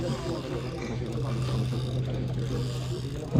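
A fishing reel's drag clicks in a steady, rapid ratchet as a large hooked carp, likely a catla, pulls line at a pond, with a constant low hum underneath and people talking nearby.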